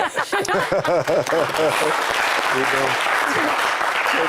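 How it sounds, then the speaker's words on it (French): Applause breaks out and swells into sustained clapping and cheering for a team captain on a TV talk show, following a stretch of speech and overlapping brief voices. "on applaudit pour le capitaine"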